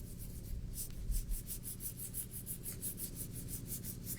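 Ink being rubbed lightly back and forth over embossed card, giving a soft, close, steady scuffing with rhythmic strokes and no talking.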